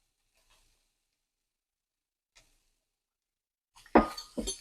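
Chicken stirred into ketchup in a pan: near silence gives way to a short burst of sizzling with a couple of spoon-on-pan clatters close by at the very end.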